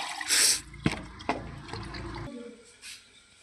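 A short burst of water splashes down onto raw chicken, then a few wet knocks and shuffles follow at close range.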